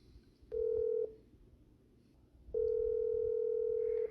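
Telephone keypad dialing tones on a call: two clear, steady electronic beeps, a short one and then a longer one, with quiet background between them.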